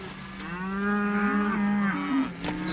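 Cattle moo in a long, drawn-out call on a ranch in open Western country, loud and close, with a second rising bellow following near the end and no talking.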